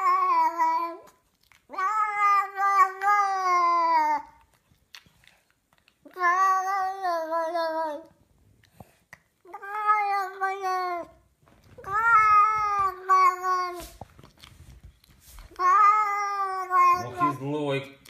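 A cat meows in long, drawn-out, almost speech-like calls, about six loud close wails separated by short pauses, with a faint voice near the end.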